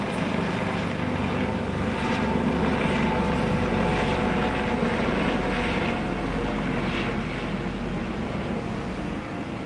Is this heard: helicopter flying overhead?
yes